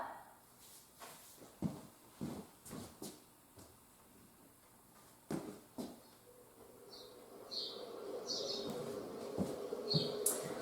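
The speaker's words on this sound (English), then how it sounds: "I hear some beautiful birds chirping." Faint birds chirp in short, high calls in the distance, over nearby footsteps and light rustling outdoors.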